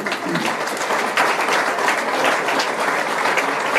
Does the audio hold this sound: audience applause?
yes